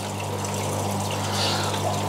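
A running Fluval FX aquarium canister filter gives off a steady low electric hum beneath continuous soft flowing and trickling water, close and unbroken.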